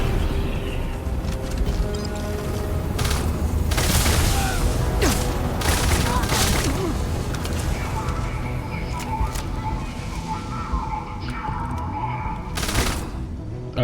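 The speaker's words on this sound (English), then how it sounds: "Oh, that's a grenade." A grenade goes off amid a Starfield firefight, with heavy bursts and booms mixed into rattling gunfire, loud and close throughout.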